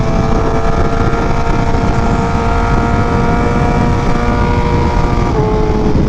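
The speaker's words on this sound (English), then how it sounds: "I love having a loud exhaust" Loud, steady engine drone of a BMW M1000RR motorcycle with a loud exhaust, a sustained tonal hum, continuous throughout over rumbling road and wind noise, close and constant.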